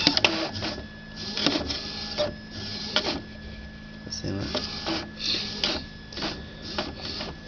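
An Epson inkjet printer with a jamming print carriage pulls in paper and prints, giving repeated mechanical whirring, rattling and clicking bursts at close range while a person talks over it.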